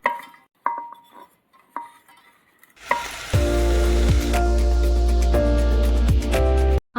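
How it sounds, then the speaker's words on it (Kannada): Cut bitter gourd sizzles loudly in hot oil in a pan, with steady frying noise and repeated scrapes of stirring, after a few quieter clinks and handling sounds at the start. "ಒಂದು ಪಾತ್ರೆಯಲ್ಲಿ ಎಣ್ಣೆ ಹಾಕಿ ಬಿಸಿ ಮಾಡಿ ಅದರಲ್ಲಿ ಕಟ್ ಮಾಡಿದ ಹಾಗಲಕಾಯಿಗಳನ್ನು ಹಾಕಿ ಚೆನ್ನಾಗಿ ಕರೆಯಿರಿ"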